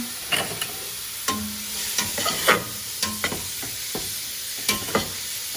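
Food frying in a little avocado oil in a stainless steel pan, a steady close sizzle broken by repeated scraping strokes of stirring, loud and alone with no voices.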